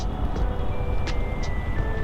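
Road traffic in Mumbai makes a dense, constant rumble of engines, with a few short horn-like tones and brief beeps rising above it.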